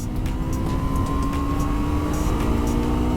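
A sport bike engine accelerating hard on a race track, its loud steady drone climbing in pitch with rising harmonics, close and continuous, with wind rush and no voices.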